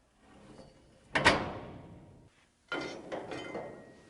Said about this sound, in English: Slam shut door.